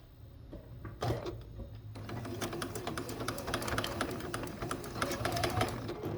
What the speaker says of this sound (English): and do a little top stitch there.